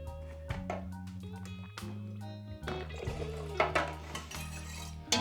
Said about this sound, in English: And we just stir that in.